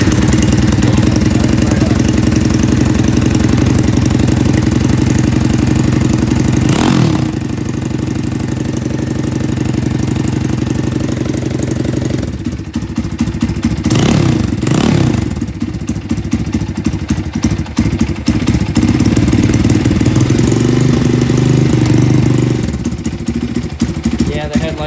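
A Honda CT70 motorcycle engine runs steadily at a close, loud idle with a deep, even throb, briefly dipping and surging partway through as the revs shift.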